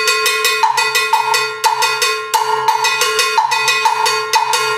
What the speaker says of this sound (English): The straight pattern that you already know